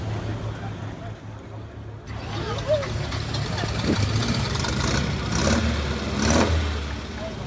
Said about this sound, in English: Sounds like they're having a bit of trouble with the engine at the moment.